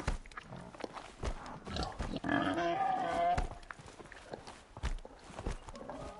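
Pigs in the video game Horizon Zero Dawn grunt and squeal in a short burst amid shuffling footsteps and scattered movement noises, fairly quiet overall.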